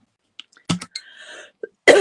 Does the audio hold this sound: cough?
yes